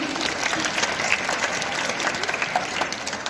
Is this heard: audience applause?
yes